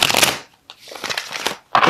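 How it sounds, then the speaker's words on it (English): Tarot cards are shuffled in quick riffling bursts, close and fairly loud, with brief pauses between the rustling passes. "I'm going to have to shuffle."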